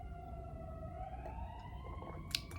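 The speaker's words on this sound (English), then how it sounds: "That's a lot of sirens." Sirens wail faintly in the distance, slowly rising and falling over a low background hum.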